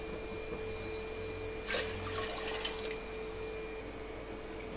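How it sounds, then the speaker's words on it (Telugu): Two cups of water are poured into a cooking pot on a stove while making moong dal and sago payasam, a soft, brief splashing pour over faint background hum. "ఏ కప్పుతో అయితే సగ్గుబియ్యం తీసుకున్నామో అదే కప్పుతో 2 కప్పుల వాటర్ని యాడ్ చేసుకోవాలి."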